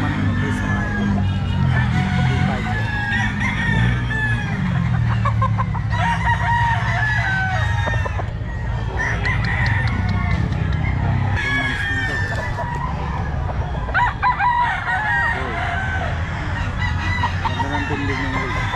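A crowd of roosters and chickens at a gamefowl gathering in Bulacan crows and clucks continuously and loudly, with many birds overlapping against a busy outdoor background.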